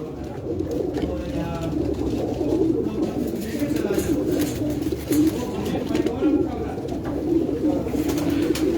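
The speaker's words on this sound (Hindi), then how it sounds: "तकरीबन कोई मेरे ख्याल से 8-9 साल 10 साल पहले आए हुए उस्ताद विकास के घर से दुबई से 10-12 कबूतर" Pigeons cooing on a rooftop loft among racing birds, a steady low murmur of overlapping coos running throughout at close range, with a voice faintly present underneath.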